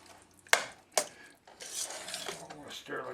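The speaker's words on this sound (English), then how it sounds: "And all I do is to give it a stir." A spoon scrapes and clinks against a pot of spaghetti sauce with Italian sausage. Two sharp knocks are followed by a wet, churning stir, close and fairly quiet.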